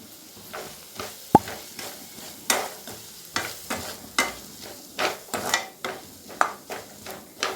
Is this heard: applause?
no